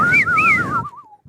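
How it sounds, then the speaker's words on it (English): A person whistles a short, clear wavering melody with a pitch that rises, falls and trails off into a thin fading note, close to the microphone and without talk. "people who can whistle like this"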